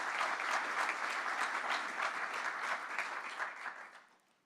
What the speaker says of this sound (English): Please join me in a round of applause for our platform party and special guests.